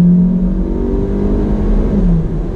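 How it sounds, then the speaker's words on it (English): A 2019 Hyundai Elantra GT N Line under hard acceleration, its engine revving loud and close from inside the cabin, a steady droning roar with rising pitch that dips briefly as it shifts. "Let me go ahead and get on the loud pedal."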